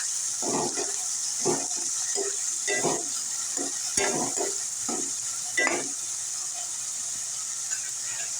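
Finely chopped onion and tomato stirred in a pan for a Kathiyawadi-style panchkuti dal, a series of distinct scraping, wet stirring strokes in an irregular rhythm over a constant high hiss, no voices.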